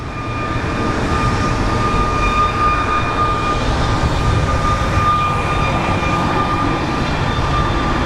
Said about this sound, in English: Southwest pulling into the gate.